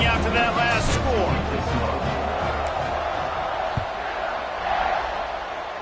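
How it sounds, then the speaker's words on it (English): A football stadium crowd keeps up a broad, steady buzz after a touchdown, a dense wash of distant voices with a voice talking over it. "this crowd is buzzing after that last score"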